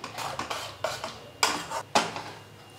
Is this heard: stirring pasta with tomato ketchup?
yes